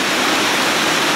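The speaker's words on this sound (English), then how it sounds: "the water flowing down them will turn the shaft" Water flows down a reverse Archimedean screw at the Torrs hydro scheme in New Mills, a loud, steady, close rushing wash with no voices.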